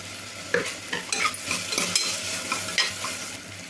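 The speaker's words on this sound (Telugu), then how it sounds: "ఉల్లిపాయ ఒక రెండు నిమిషాలు వేగిన తర్వాత చెక్క లవంగం యాలక్కాయ అయితే వేసేస్తున్నాము" Onions frying in oil in a pan with cinnamon, cloves and cardamom for a butter bean masala curry, a crackling sizzle broken by repeated scraping and clinking of a spoon stirring, close and without speech.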